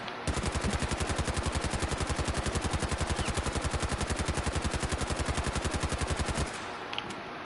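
Rapid automatic gunfire from the video game Fallout 4, a long unbroken burst of evenly spaced shots lasting several seconds, loud and close, ending abruptly into quiet.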